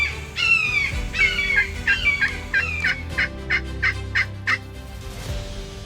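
A wild turkey gobbles in Florida in a rapid, rattling burst, repeating in quick pulses that trail off, fairly close with faint background hum.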